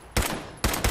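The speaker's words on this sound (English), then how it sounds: "Shoot you right in the balls" Gunfire from the video game Fallout 4: two loud, close blasts a half-second apart, each with a punchy low thump, with a quicker follow-up shot at the end.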